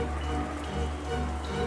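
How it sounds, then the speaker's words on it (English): Wind and rain outside in the Umineko visual novel: a steady, even hiss of rainfall with a low rumbling underlayer, continuous and unbroken throughout, with no voices. "all the wind and rain outside"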